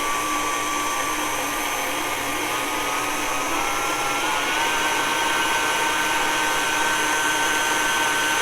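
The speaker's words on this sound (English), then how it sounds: "So we're just going to start our mixer" An electric mixer creams sugar and oil together for carrot cake batter, giving a loud, continuous motor whir with a slowly shifting pitch. It runs steadily and alone, with no talking.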